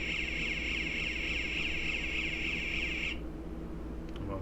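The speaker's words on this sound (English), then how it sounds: "as we increase the temperature past the peak, the alarm will sound." Temperature alarm from an Arduino circuit, probably a small buzzer, sounds a steady, high-pitched beep for about three seconds and then stops, leaving quiet room hum.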